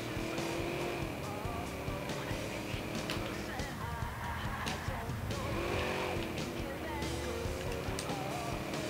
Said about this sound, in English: the driving in this game feels extremely fucking awkward